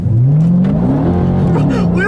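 A 2025 Dodge Durango Hellcat SUV accelerates hard on a straight road, its engine revving loudly and climbing in pitch through the gears, close and dominant, with a voice underneath.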